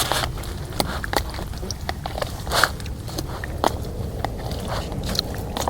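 Someone chews food close up outdoors in the Peak District, with a string of crunchy, crackly bites and soft chewing sounds at an irregular pace.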